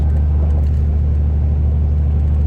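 A pickup truck engine running at a steady low rumble, close and continuous, with no revving and no voices.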